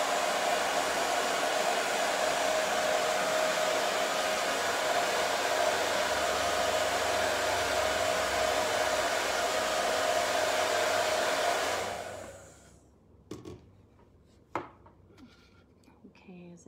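A hair dryer blows a loud, steady whoosh for about twelve seconds while drying paint on a wooden paddle, then cuts off, leaving quiet handling taps and faint sounds.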